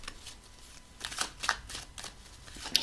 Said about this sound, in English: I'm going to shuffle in some more here